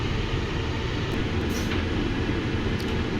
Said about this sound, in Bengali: ট্রেন আস্তে আস্তে তার গতি রোধ করছে এবং এভাবে ট্রেন এগিয়ে যাচ্ছে সামনের দিকে